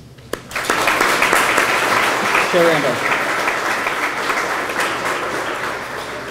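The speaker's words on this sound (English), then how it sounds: "Please give them a round of applause as they step to the mic next." A crowd applauds at a Loudoun United FC press conference, a dense sustained round of clapping that swells in quickly and holds steady, with a brief spoken name heard near the start.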